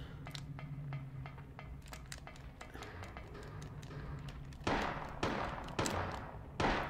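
Pistol shots in the Silent Hill video game, a string of sharp, evenly spaced reports ringing out over a steady game background, with a louder, denser burst of shots near the end.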